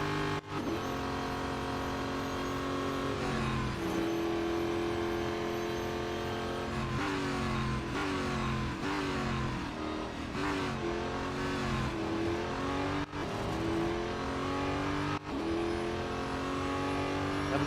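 A racing car engine in Real Racing 3 revs hard and continuously, its pitch climbing and dropping through gear changes on a lap, loud and close throughout with no talk.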